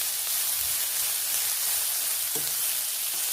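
Vegetables such as carrots stir-fried in a pan for japchae, giving a constant loud sizzle with occasional scraping stirs and light utensil knocks.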